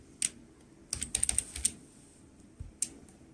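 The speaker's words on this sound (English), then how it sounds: "Let's type the bridal name, Jesse, Tony." Typing on a computer keyboard: a single keystroke, then a quick run of several clicks, and two more isolated taps, close and fairly quiet against a soft background.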